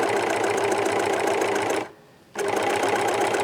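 A serger overlocker machine runs steadily while sewing a seam, a loud continuous mechanical whir that cuts out briefly for about half a second before resuming at the same pace.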